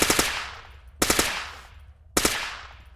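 Three separate bursts of AUG 9mm fire in the Arma 3 video game, each a quick cluster of two or three close, loud shots ringing off into a fading tail, spaced about a second apart with no talk.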